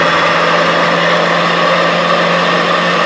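A Vienta food processor motor runs at its faster second speed setting, giving a steady, loud, unbroken whirring hum with a low buzzing undertone and no voices.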